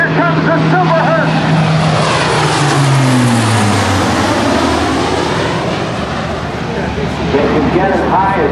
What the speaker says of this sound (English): Here comes the Super Herc.